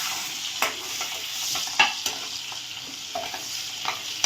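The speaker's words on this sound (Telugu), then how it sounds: "2 స్పూన్స్ జీరా వేసి ఫ్రై చేయాలండి." Cumin seeds fry in a pan for an onion and chilli paneer butter masala, giving a steady hiss and crackle with a few sharp spoon scrapes and taps, close and alone with no talk.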